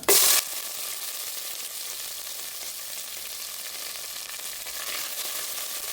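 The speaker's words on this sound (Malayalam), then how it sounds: "ഇതിലേക്ക് കടുക് ഇട്ട് കൊടുക്കുകയാണ്. കടുക് പൊട്ടി വരുമ്പോൾ" Mustard seeds crackle and pop in hot oil, with onion, curry leaves and chilli nearby, for a Kerala-style koorka thoran, with a steady, close sizzle that carries on without pause.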